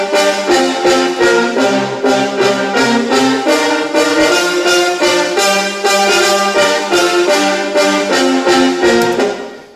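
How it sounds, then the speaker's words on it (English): Three layered brass parts from a studio music production play together in a dense, steady stream of chords, loud and continuous, with no voices. "Three brasses together sound like this."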